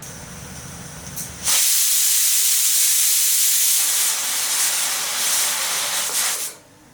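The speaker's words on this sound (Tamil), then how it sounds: "அதுக்குள்ளே ஸ்டீம் போயிடும், அப்படியே ரெடி ஆயிடும்." Steam bursts from a pressure cooker of mutton pulao in a loud, continuous hiss that starts abruptly, runs about five seconds and then cuts off, with no talk.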